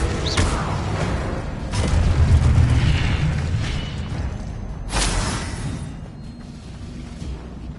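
Spells such as Confringo and Incendio explode in Hogwarts Legacy on PS5, giving several booming blasts with whooshing bursts spread across a few seconds.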